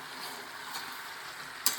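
Chicken stir-fried with garlic and ginger paste in a wok, a faint soft sizzle under quiet stirring, with one sharp metallic clink of the spatula near the end.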